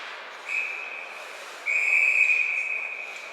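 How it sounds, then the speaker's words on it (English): A referee's whistle sounds twice at a boys' ice hockey game in an arena: a short steady blast, then a longer, louder sustained blast over faint crowd ambience. "And we have a whistle by the referee"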